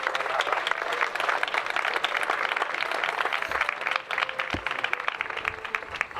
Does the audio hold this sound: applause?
yes